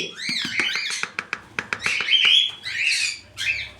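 Several birds squawk and chirp loudly and close by, harsh calls alternating with sharp short notes in quick succession, no voices.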